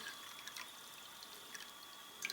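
Thirty-two ounces of water poured into a compact Stanley steel pot make a faint, steady trickle with a few soft drips and splashes, quiet and close, without talk.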